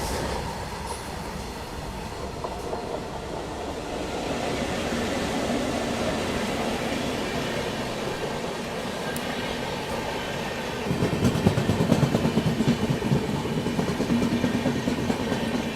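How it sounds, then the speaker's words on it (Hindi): Train 12988 Ajmer Sealdah Superfast Express passing alongside while overtaking, heard from aboard the Delhi Gaya Amrit Bharat Express: a steady rumbling rail roar with clickety-clack, growing louder and denser near the end, no talk. "पीछे से आती हुई 12988 Ajmer Sealdah super fast express अपनी दिल्ली गया अमृत भारत एक्सप्रेस को ओवरटेक करने आती हुई"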